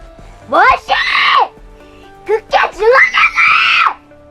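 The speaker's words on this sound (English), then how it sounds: "Hyo-jin suddenly lost control of her emotions and began shouting wildly at him" A woman in a Korean mystery film shouts wildly at a man in two loud, strained bursts of screaming with a short pause between them.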